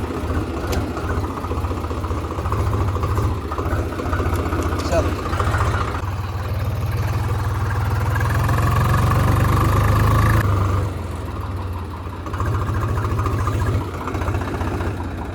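A farm tractor engine runs at a steady idle on a rural field, a low continuous rumble that swells slightly louder near the end, with a person talking over it throughout.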